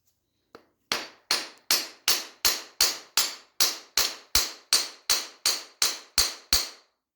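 Hammer blows on a Triumph TR6 transmission part during a gearbox rebuild: about fifteen sharp metallic strikes, close and evenly spaced roughly every third of a second, ringing briefly in a quiet workshop.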